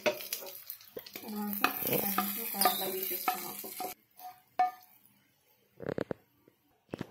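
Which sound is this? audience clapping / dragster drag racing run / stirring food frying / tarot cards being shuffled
stirring food frying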